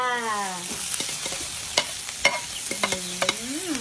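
Garlic is stir-fried in a pan with a steady sizzle, scattered sharp clinks and scrapes of a utensil against the pan, and a brief whistling tone near the start and end.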